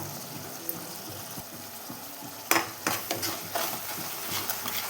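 A chili and salt spice mixture for chole bhature frying in a pan, heard as a steady low sizzle with stirring scrapes and clinks growing busier partway through.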